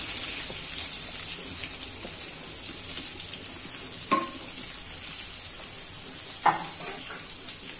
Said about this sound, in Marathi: इथे मगाशी मी जो लांबट कांदा कापलेला होता तो सगळा फ्राय करायला घालते आहे